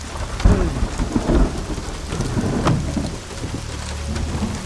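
Heavy rain pours at night with a steady rushing hiss, and deep rolls of thunder rumble through it, rising and fading in low booms.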